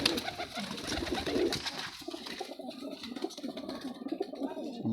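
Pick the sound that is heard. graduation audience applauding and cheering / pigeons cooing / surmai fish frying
pigeons cooing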